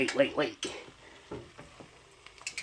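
Potatoes frying in a pan as home fries, a soft sizzle with a few stirring scrapes near the start, while a voice talks over part of it.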